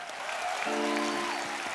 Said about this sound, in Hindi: एक बार शंकर एहसान लोहे के लिए जोरदार तालियां।